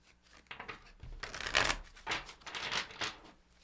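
A tarot card deck being shuffled by hand, with quick papery riffles and flicks in irregular bursts, close and moderately loud, no talking.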